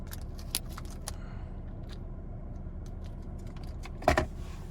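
Keys on a 2022 Nissan Frontier Pro-4X key fob jangle in two short, close metallic bursts, a light rattle early on and a louder clink near the end, over a low steady hum.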